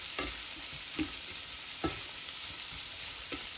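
Chicken and shrimp sizzle steadily in a hot frying pan while being turned piece by piece, with a few sharp scraping knocks of the utensil against the pan over the constant hiss.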